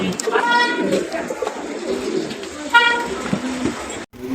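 Diamond doves and pigeons coo in two short, tonal bursts over a busy, noisy background with voices nearby.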